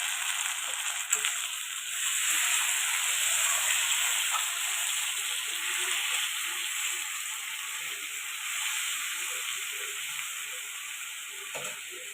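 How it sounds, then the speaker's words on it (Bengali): Ginger-garlic paste sizzles and fries in oil with browned onions, a steady close, loud hiss running unbroken throughout. "এখন গেল আদা রসুনের পেস্ট।"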